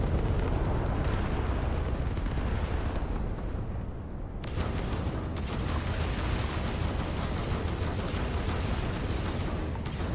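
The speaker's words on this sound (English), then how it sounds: "Hit it with the missiles, the shields are down" Missile explosions in Starfield space combat: dense, continuous roaring blasts and rumbling booms fill the whole stretch at high loudness, with a brief dip in the middle before the barrage resumes.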